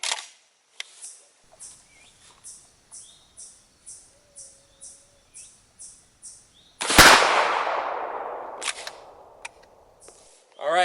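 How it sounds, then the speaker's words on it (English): One loud, close blast from a shotgun with a 26-inch barrel and no choke, firing 00 buckshot, rings out after a run of regular camera clicks, then decays in a long outdoor echo. "so let's take first shot"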